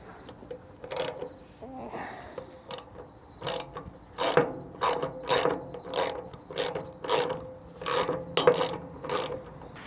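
A ratchet wrench fitted with a 10mm socket turns a bolt on a machine, giving close, loud bursts of rapid clicking in repeated strokes with brief pauses between them.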